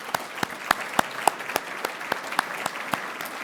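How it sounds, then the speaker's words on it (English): Audience at a mayors' economic forecast event in an Oakland hotel applauding local leaders, a soft background of clapping with distinct, sharp, steady claps from nearby hands rising above it. "Let's give any of our elected and or appointed leaders a big round of applause."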